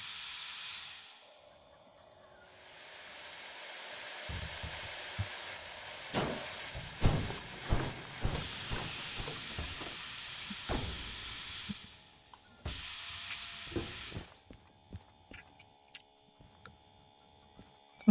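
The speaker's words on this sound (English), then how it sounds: "I think the bigger steam engine is easier to drive." A steam locomotive in the Derail Valley train game lets out loud bursts of steam hiss that start and stop, mixed with clanks, knocks and rumbling of the wagons, with no speech.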